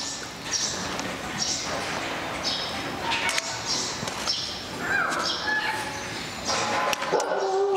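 A husky and a Doberman wait at feeding time, giving high whimpers, yips and short barks in a continuous noisy scene, with some human voice mixed in.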